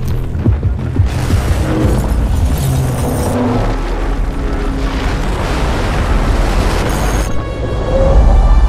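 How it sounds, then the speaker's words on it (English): Massive tower crashing down in a video game trailer after its supporting pillars are blown out, a loud sustained roar of booming, rumbling debris with crashes, ending in a deep heavy rumble. "this whole tower gets destroyed once the underlying pillars are taken out"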